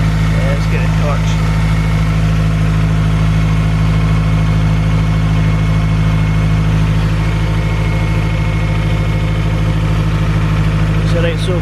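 Mazda RX7 with a K-series engine swap and GTX3076R turbo idling rich at its first start, a loud, steady low rumble with constant engine drone and no breaks.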